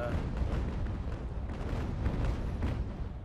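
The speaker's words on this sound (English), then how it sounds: "I just love those cannon sounds." Continuous heavy booming and rumbling of rapid cannon fire in the naval video game Ultimate Admiral: Age of Sail, dense and loud throughout with overlapping blasts and no pauses.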